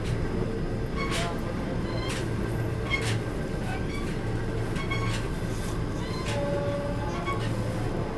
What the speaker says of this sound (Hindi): अभी फिलहाल ट्रेन निकल रही है रुंदी रेलवे स्टेशन से ओवरटेक के बाद